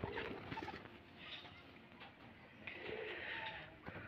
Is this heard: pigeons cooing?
yes